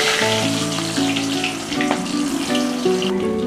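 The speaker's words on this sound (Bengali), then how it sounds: "আমার তেলটা গরম হয়ে গেছে," Stingray fish pieces fry in hot oil with a steady, close, hissing sizzle that runs throughout, while sustained tonal sounds hum underneath.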